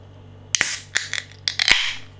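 Beer can of Maui Brewing coffee double bock cracked open, a sharp metallic click and hiss followed by a second louder pop and fizzing spray, close and crisp, with no talk.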